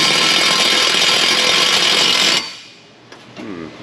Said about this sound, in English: Switching tools to a little impact